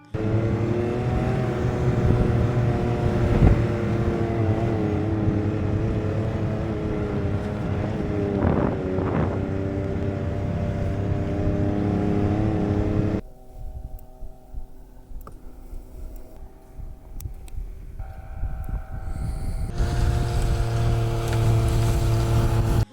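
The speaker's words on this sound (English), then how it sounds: "We head out with our snowmobiles from our cabin into the village of Longyearbyen" Snowmobiles travel over snow near Longyearbyen on Svalbard, a loud steady engine drone with wind buffeting for about half the time, then a quieter, rougher stretch before the engine roars up again.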